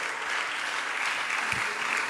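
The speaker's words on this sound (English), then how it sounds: "Let's give them a round of applause." Audience at a teenagers' conference clapping for participating students, a full steady round of applause throughout with no break.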